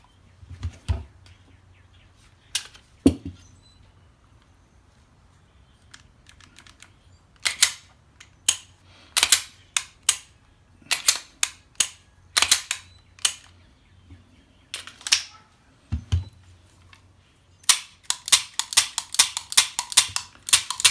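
Sharp, close mechanical clicks and snaps from a Tisaş Zigana Sport pistol's action, scattered at first, then coming in faster runs, over a low steady hum.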